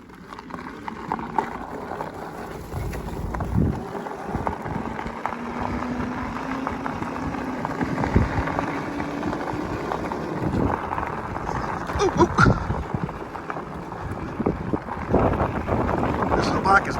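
A Super73 electric bike ridden outdoors on a road, dominated by steady rushing wind buffeting the microphone, with faint motor hum and occasional rattles beneath it.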